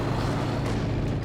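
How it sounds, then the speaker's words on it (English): A dive-bomber strike explodes in a Company of Heroes 2 2v2 match, a dense, sustained low rumble of blast and debris filling the whole moment at steady loudness, with battlefield noise layered over it and no clear separate hits. "Nasty dive bomb there from Stephen"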